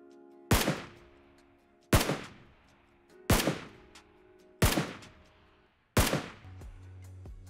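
A SCAR-L rifle fired in the PUBG Mobile game: five sharp, loud single shots spaced about one and a half seconds apart, each ringing out in a decaying echo, with no voices.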